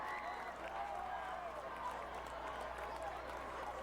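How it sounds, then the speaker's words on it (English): A crowd at a high school homecoming football game cheers and claps after an interception, a steady, dense roar of applause under a commentator's voice. "The crowd is going wild here at the corral."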